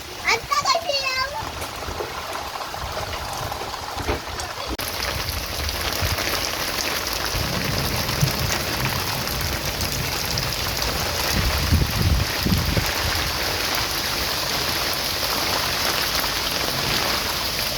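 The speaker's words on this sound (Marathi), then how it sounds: "त्याचा हा पाऊस पडतो कसा पडतो बघा." Steady rain on an evening during a power cut, a constant dense patter close by that runs the whole time, while people, including a child, talk over it.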